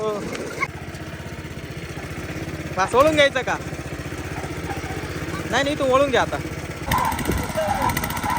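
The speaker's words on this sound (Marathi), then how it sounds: "मित्रांनो आता या ठिकाणी ट्रॅक्टर वळून घेतलाय" A tractor engine chugs steadily at close range while turning, a low rhythmic rumble under excited voices talking and calling out.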